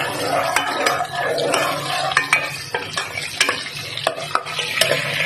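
Chopped onions fry in hot oil in a pan for a Hindi-style curry, a steady sizzle broken by repeated scraping stirs of a spoon against the pan, close and fairly loud.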